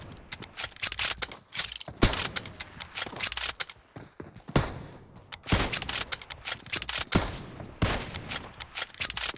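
A gun reloads in the BGMI mobile shooter, with rapid clacking and ratcheting mechanical clicks mixed with bursts of gunfire in an uneven, busy rhythm.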